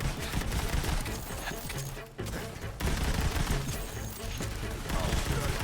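Pistol fire in the video game Borderlands 3 rattles in dense, overlapping bursts of shots mixed with crashing impacts, loud and continuous with only a brief lull, while voices talk over it.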